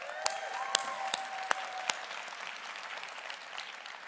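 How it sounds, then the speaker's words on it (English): An audience at a National PTA convention claps in a steady patter of applause, moderately distant, with a few sharp, distinct claps standing out early on. "Give yourselves a round of applause."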